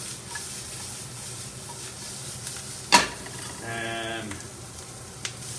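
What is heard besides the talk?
garlic sizzling in a pan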